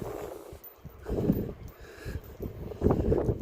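Gusty wind buffets the microphone outdoors on the Dublin coast, a low rumbling roar that swells and eases in uneven bursts.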